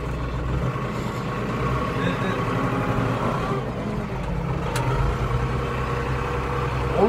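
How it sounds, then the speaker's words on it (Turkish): A tractor engine drones steadily while being driven, a rough low rumble that shifts slightly in pitch and loudness throughout, with no talk. "şimdi traktör sürüyorum"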